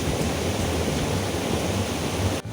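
A river flowing in front of a house makes a steady, dense rush of water, loud and close, with no voices over it until a brief drop at the very end.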